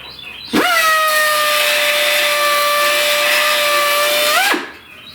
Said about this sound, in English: my little air sander. And take just a tiny bit off this edge right here.